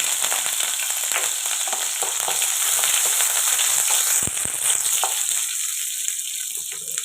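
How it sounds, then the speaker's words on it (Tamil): Steady, dense crackling and sizzling of mustard seeds popping in hot oil, close and fairly loud, with no voices. "எண்ணெய் காயட்டும் கடுகு போட்டுக்கலாம் கடுகு பொரியட்டும் கடுகு பொரியுது"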